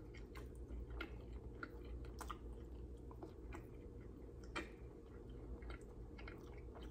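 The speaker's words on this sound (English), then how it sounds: "I want to apologize for my chewing action." Someone chews saucy, fall-off-the-bone BBQ ribs close to the mic, with soft wet smacks and occasional small bites over a quiet low hum.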